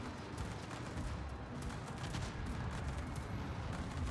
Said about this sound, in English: at close range, we fire our main guns at the broadside carrier's waterline